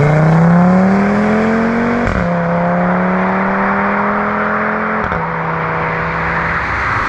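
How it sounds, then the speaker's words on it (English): An Audi TT RS five-cylinder engine revs and drones steadily, pitch climbing gradually, with two brief shifts, loud and close throughout. "5-cylinder sounds absolutely wicked."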